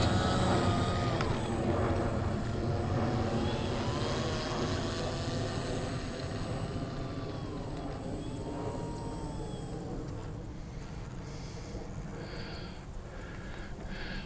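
An AP40 Apprentice S 15e electric RC airplane taxis across a plastic surface with a steady, fairly loud motor and propeller whine that continues throughout and softens slightly toward the end.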